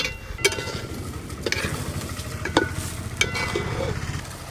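A spoon scrapes and stirs through turmeric-coated rice for basanti pulao in a pot over a steady low sizzle, with a few sharp metallic knocks against the pan.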